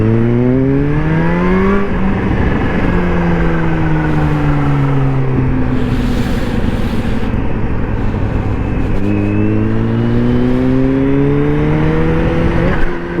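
A supercharged sport motorcycle accelerates hard through the gears, its engine note climbing steeply in repeated loud pulls, each broken by a brief dip at the shift, close and sustained with no talk.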